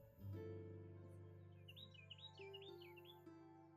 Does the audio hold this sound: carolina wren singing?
yes